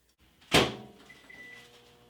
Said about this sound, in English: We're actually going to microwave it.